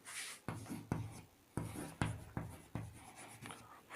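Chalk or marker strokes rasp across a board during a chemistry lecture, a series of distinct scratching bursts at irregular intervals, close and clear with no talking.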